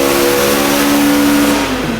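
A mapped Honda EP3 car engine revs hard on a dyno, a loud sustained mid-pitched drone climbing steadily in pitch, then easing off slightly at the very end.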